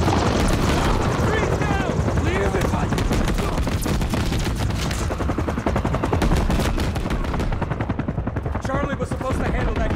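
Enemy helicopter rotor thumping under dense gunfire and machine-gun bursts in the Call of Duty Modern Warfare 3 video game, loud and continuous with voices shouting over the battle.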